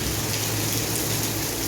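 Rain falling during Ramadan, a dense, steady hiss of drops that is constant and fairly loud throughout, with no voices.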